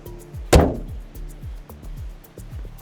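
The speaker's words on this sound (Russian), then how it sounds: "С таким характерным звуком закрывается капот" The hood of a 2027 Audi RS 5 slams shut with one loud, solid thud, followed by a quiet, rhythmic ticking and low pulsing from the idling car nearby.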